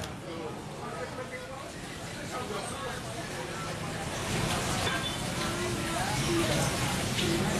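Heavy rain driven by strong wind hisses steadily outdoors in Demak, Central Java, a broad rushing wash that grows louder toward the end.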